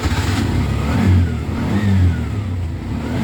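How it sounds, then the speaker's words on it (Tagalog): An engine on a Bajaj unit revving as the throttle is pressed, surging and then sagging as it loses power, rough and close with no talk. "habang binibirit natin yung silinyador, nawawala nito ng pwersa"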